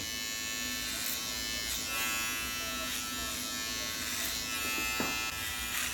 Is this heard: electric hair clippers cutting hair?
yes